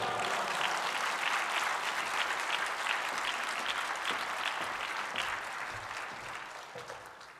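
A church congregation applauds to welcome a guest speaker at an early-morning service, with dense, sustained clapping filling the room that holds steady and then tapers slightly toward the end.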